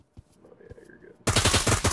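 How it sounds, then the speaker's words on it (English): Gunfire in the VR shooter game Pavlov VR breaks out suddenly after quiet, faint sounds as a loud, close, rapid rhythmic volley of automatic shots. "The gunshots are close."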